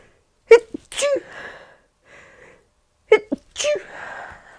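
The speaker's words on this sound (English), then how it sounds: "I'm about to sneeze." Two loud, sharp sneezes, each with a quick inhaled build-up and a burst, spaced a couple of seconds apart in a quiet room.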